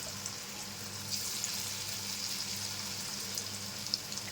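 Paneer 65 pieces frying in oil give a faint, steady bubbling sizzle with a few light clicks, close by and alone.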